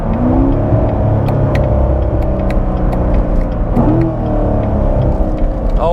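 A 2019 Chevrolet Corvette C7 engine revs and blips through a downshift, a loud, steady close-up roar with rising and falling pitch sweeps and no voices.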